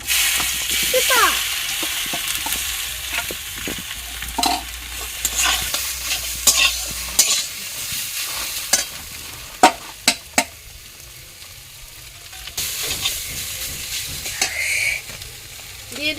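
Chopped papaya greens go into a hot pan of oil with nigella seeds and peanuts, followed by continuous sizzling and repeated scraping and stirring strokes, close up, while someone talks at intervals.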